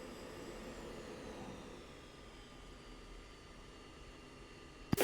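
Jet engine spooling up for takeoff in the Falcon BMS flight simulator, a faint steady roar with a slowly falling whine, ending in a brief sharp click.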